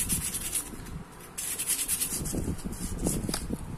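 Sandpaper rubs gently in short, irregular strokes against a motorcycle stator nearby, a dry scratchy scraping that comes and goes with brief pauses.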